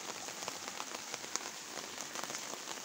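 Heavy rain falling in a village garden, a dense steady patter of drops hitting surfaces close by, continuous and even with no voices.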